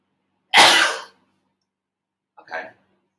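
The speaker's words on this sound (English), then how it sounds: "Sorry, a sneeze coming on." A single person's sneeze bursts out loud and close, followed after a pause by a shorter, softer breathy sniff or exhale, with silence around both.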